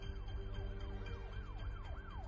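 A police car siren wails in repeated rising-and-falling sweeps, steady and continuous over a low engine rumble, with no voices.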